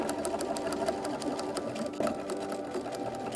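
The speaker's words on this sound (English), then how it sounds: "Start understitching on the lining itself, pretty close to that seam, all along the seam that you just sewed." A sewing machine runs steadily to understitch a garment lining close to the seam, its needle tapping in a fast, even rhythm with a low motor hum, close and alone.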